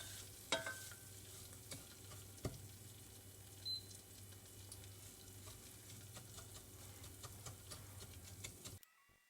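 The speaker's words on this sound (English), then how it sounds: "I turn the heat up a little and mix with a wooden spatula." Toffee being stirred in a saucepan with a wooden spatula over raised heat, giving a quiet, steady scraping and soft bubbling with a few sharper knocks, then cutting off abruptly near the end.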